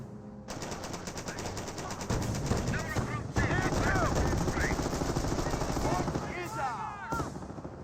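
Gunfire in the World War II strategy game Company of Heroes: rapid machine-gun bursts and scattered shots with heavier blasts, loud and continuous, while a commentator talks over the battle.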